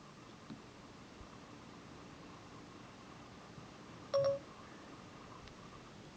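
An iPhone dialing voicemail by voice command gives a short electronic tone over faint background hiss, a single brief beep in a mostly quiet stretch.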